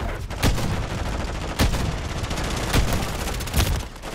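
Gunfire in a video game: four sharp, loud shots spaced about a second apart over a dense, noisy background.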